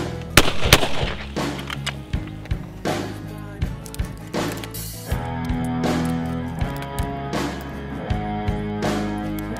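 A 20 gauge shotgun firing a reloaded Winchester Super Target shell outdoors, sharp reports recurring among a series of bangs and thumps over a steady low background hum, with no talk.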